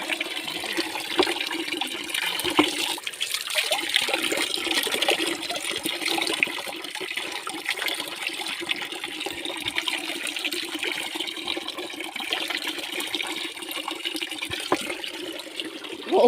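Cold mountain spring water runs in a steady, continuous rush and splash outdoors, close and fairly loud, with no talk over it.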